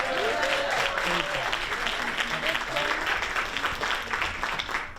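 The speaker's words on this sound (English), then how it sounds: "let's thank all of our student participants with another round of applause" An audience at a youth oratorical contest gives a sustained round of applause for the student participants, dense clapping filling the whole stretch at steady loudness.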